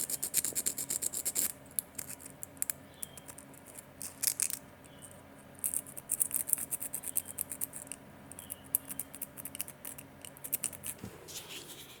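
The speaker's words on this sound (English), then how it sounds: "So what I'm going to do is just get those out by using some sandpaper." Sandpaper rubs over a copper wire-wrapped pendant with a side-drilled bead, making close, quiet rapid scratchy strokes in uneven bursts with short pauses.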